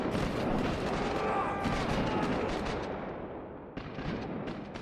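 Cannons fire at a house in a pirate video game, a dense roar of booming blasts and rumbling impacts, loud at first, then fading, with a fresh burst near the end.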